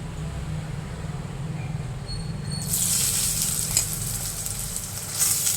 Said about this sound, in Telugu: కొంచెం వేగాక ఉల్లిపాయ పచ్చిమిరపకాయ వేసేసి